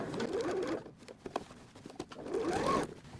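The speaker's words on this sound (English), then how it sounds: "I'm actually stitching, I'm reinforcing and sewing right on top of that seam" A sewing machine stitching back and forth over a worn seam to reinforce it, with two whirring runs of the motor separated by short clicks and pauses, close and moderately loud.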